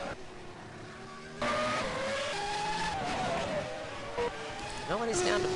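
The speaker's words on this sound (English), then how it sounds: "Christian Bayless with a loud car" A loud race car screams past in a Grand Prix of Europe racing video game, engine revving and shifting pitch with tire squeal, under ongoing commentary talk.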